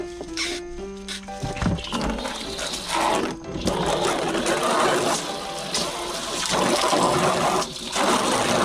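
Running water rinses items from a call duck's cage, a steady splashing gush with some clinks of handling, close and continuous.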